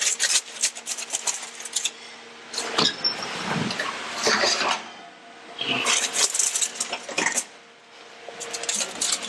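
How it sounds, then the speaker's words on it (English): A metal pan holding a brined, stuffed turkey is slid back into a 350-degree oven with clattering metallic knocks and scrapes in close, uneven bursts. "And back into the oven it goes."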